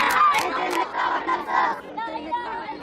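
Large crowd of Hamas supporters on the West Bank chanting and shouting together, a loud, dense roar of many voices with rhythmic cries rising and falling throughout.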